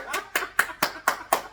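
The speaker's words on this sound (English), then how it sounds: "Gotta clap it up." Seven sharp hand claps in a steady, even rhythm, close and crisp, with no voices between them.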